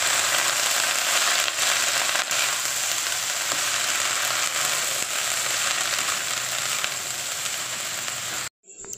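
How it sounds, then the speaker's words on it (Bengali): Prawns frying in oil in a pan, mixed with drumstick leaves for a ground paste: a loud, dense, continuous sizzle with scattered crackles and pops, cutting off briefly near the end. "যেহেতু চিংড়ি মাছটা একটু কাঁচা থাকে, ওটা একটু ভালো করে ভেজে নেবো"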